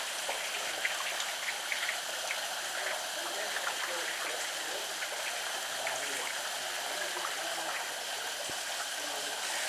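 A waterfall and stream in the Blue Mountains, a steady broadband rush of falling and splashing water, close and constant, with faint scattered drips and no talk.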